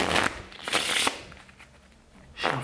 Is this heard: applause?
no